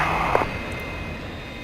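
A 1951 F-86 Sabre jet turns onto the runway, its engine giving a steady, broad roar with a high whine, loud and continuous throughout with no voices.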